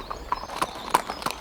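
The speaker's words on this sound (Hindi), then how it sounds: "ये दूर जाते हुए घोड़े की टापों की ध्वनि।" Horse hooves clopping at an uneven pace in a historical drama scene, a series of sharp knocks with a faint background hum and no talking.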